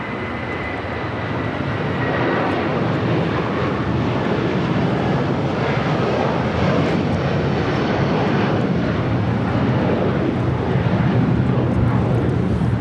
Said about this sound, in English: This is United Airlines 1431 taking off to Honolulu on a 757-300.